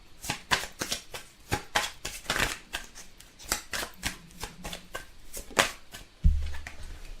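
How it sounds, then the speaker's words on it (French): Tarot cards are shuffled close up in a quick run of crisp riffling flicks and soft slaps, ending with a low thump as the deck is set down. "on va tirer quelques cartes de celui-ci"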